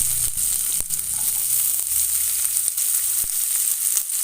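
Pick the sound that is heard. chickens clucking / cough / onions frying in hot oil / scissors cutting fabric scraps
onions frying in hot oil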